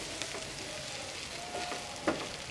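Chicken pieces and onion frying together in a hot pan for street-food style chicken rolls, a steady soft sizzle with light stirring scrapes and one brief louder clatter near the end, no voices.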